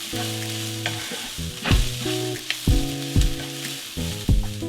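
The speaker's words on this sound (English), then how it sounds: "Now I am going to add the sun-dried tomatoes." Sun-dried tomatoes hitting a pan of slightly caramelized onions, a steady close sizzle with stirring clatter and a few loud utensil knocks against the pan, while tonal background music plays underneath.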